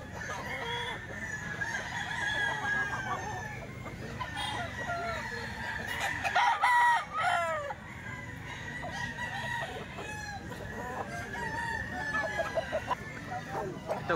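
Gamecock roosters, bull stags among them, crow repeatedly in a noisy yard, with clucking around them and someone talking faintly in the background.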